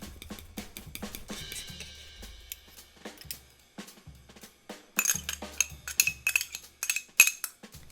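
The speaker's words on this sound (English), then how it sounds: "grind it into a paste by pushing the garlic into the cutting board using the side of your knife" A knife pressing and dragging garlic into a paste on a cutting board, a close run of irregular taps, scrapes and metallic clicks that grow denser and louder toward the end, with no talking.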